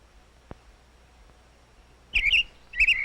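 An American robin in Kentucky gives two short, sharp chirps, close and clear, separated by a brief pause against an otherwise quiet background.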